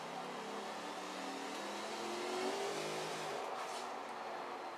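Supercharged car engine in Forza Horizon 4, a steady droning game engine note with gliding pitch as the car accelerates, held at moderate level with no talk.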